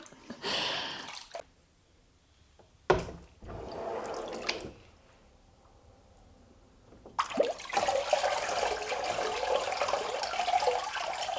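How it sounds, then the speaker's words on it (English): Water splashing and trickling in bursts, then a sustained stream of dripping and pattering water running off a papermaking mould close by, with brief quiet gaps between. "I love the sound of the water dripping off."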